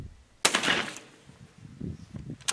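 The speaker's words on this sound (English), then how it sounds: "I shot a little high that time it got it." A 12 gauge High Standard Nato Pintail trap shotgun with a 28-inch barrel fires one sharp, loud shot outdoors, its blast ringing briefly before someone talks quietly.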